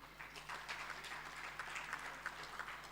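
A symposium audience gives the presenters a light round of applause: faint, uneven clapping that stays fairly distant, with a steady low hum underneath.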